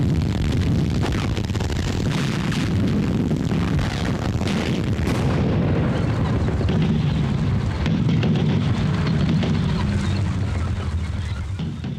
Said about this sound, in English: just behind some of the very, very heavy guns, and there's a terrific barrage going on